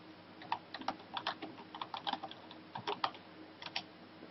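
Quick clicky keystrokes on a computer keyboard as a search is typed into a web browser, an irregular patter of soft taps at close range in a quiet room.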